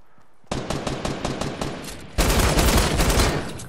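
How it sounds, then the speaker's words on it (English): Rapid automatic gunfire in the Fortnite video game, a steady stream of loud shots that intensifies and grows denser partway through, with no talking over it. "He's shooting you from behind the tree"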